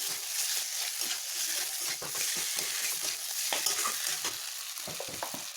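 Onion, ginger and bay leaf fry in hot oil with a constant crackling sizzle, broken by quick scraping stirs of a spoon against the pan, close and fairly quiet.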